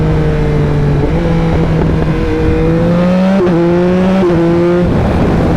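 A 2021 Yamaha MT-09 motorcycle with a flashed ECU accelerates hard and close, its engine note climbing in steps through several gear changes with brief dips between them, loud and continuous with no talking.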